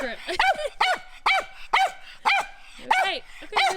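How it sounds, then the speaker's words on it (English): A dog barking on a trip near Santiago, giving a rapid series of about eight sharp, loud barks at an even rhythm, close by, with some yipping edges. "The first attack dog of the trip."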